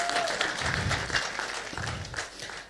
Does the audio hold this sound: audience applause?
yes